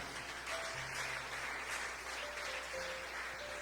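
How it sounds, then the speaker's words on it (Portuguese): A church congregation at an Assembleia de Deus service gives a round of applause for Jesus, a soft, distant, even wash of clapping with faint tonal hum beneath. "dê uma salva de palmas para Jesus"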